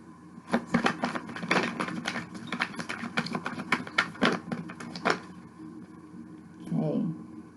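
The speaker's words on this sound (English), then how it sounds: "I'm going to shuffle again" Tarot cards are shuffled by hand in a series of quick, crisp riffling bursts and taps over about five seconds, fairly quiet and close, followed by a short spoken murmur.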